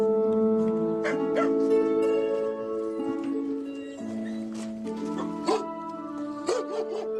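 Caged dogs on a dog meat farm bark, yip and whimper in a steady overlapping chorus, close and continuous, with sharper barks breaking out near the end.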